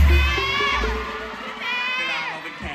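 A large audience at a Billkin and Tay Tawan fan meeting shouts and cheers in two loud bursts, high excited voices screaming together in a big indoor crowd.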